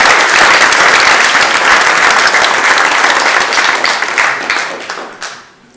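Audience at an eloquence contest final in the French Senate applauds loudly and steadily, dense clapping throughout before fading out at the end.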